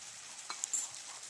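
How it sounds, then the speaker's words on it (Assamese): Mutton frying in a pan with yogurt being stirred in, a soft steady sizzle with a few brief scraping clicks from the stirring, close and fairly quiet. "দৈখিনি ধুনীয়াকৈ লৰাই দিছোঁ।"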